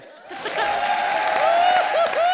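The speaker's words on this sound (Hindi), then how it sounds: "ताली बजा रे।" Studio audience applauding and cheering on a Comedy Circus comedy show, a steady burst of clapping that swells after a quiet start, with a tonal music or voice line running through it.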